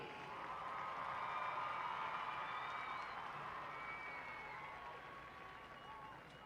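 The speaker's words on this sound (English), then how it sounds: "let's hear a huge round of applause for this homecoming court nominee" A stadium crowd at a high school football game applauds a homecoming court nominee, a broad, distant wash of clapping and cheering that swells and then slowly fades, with scattered voices mixed in.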